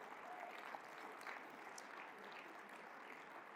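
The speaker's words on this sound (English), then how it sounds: "Give them all a round of applause, please." A banquet audience at the 2023 Avivo Night of Champions gala dinner gives the event sponsors a round of applause, a soft, distant, even patter of many hands that carries on steadily.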